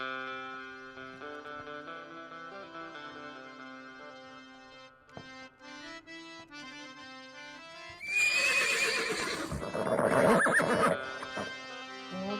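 A mare neighs during a Gujarati Ramamandal folk drama performance. The loud, shrill whinny bursts in close and prominent after several seconds of sustained musical tones.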